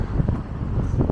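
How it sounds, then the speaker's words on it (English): Strong wind buffets the microphone, a continuous low rumbling roar with gusty bursts and no voices. "But it's literally so windy."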